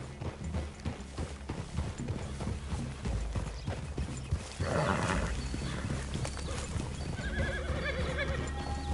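Horses neighing and hooves clip-clopping in Red Dead Redemption 2 during a game scene, a loud whinny standing out over steady hoofbeats and ambient game audio.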